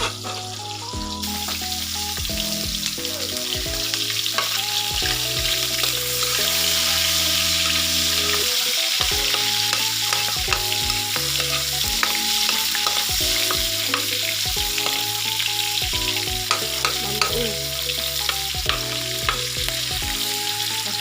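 Milkfish (bangus) fries in a pan with a constant spattering sizzle, heard at moderate level under steady background music, with a brief dip partway through.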